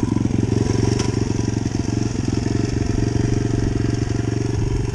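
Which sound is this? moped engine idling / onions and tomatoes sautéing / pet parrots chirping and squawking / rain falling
moped engine idling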